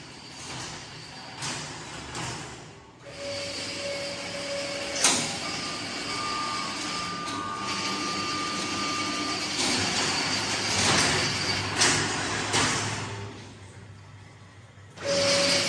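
Hard gelatin capsule shell production line machines run steadily with a dense mechanical whir, interrupted by sharp clacks and hissing bursts and a few brief tonal beeps, all fairly loud and continuous with no voices.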